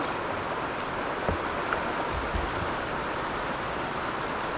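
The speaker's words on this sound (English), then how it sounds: "The sound of moving water." Steady broadband rush of river water pouring over a small rocky low-head dam, a continuous even roar with faint low knocks, heard alone at a distance.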